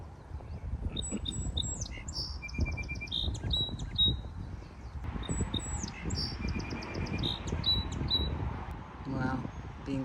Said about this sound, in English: That bird has the prettiest song.